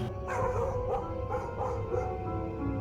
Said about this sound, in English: Then, without warning, Abby started barking